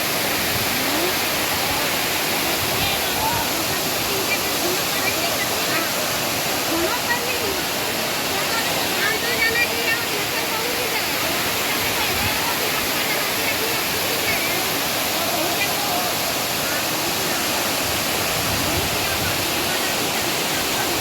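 Strong water current rushes in a constant loud roar near Topchanchi lake in Dhanbad, a dense unbroken wash of sound close by, with a voice speaking faintly underneath.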